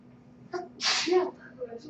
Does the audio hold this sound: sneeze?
yes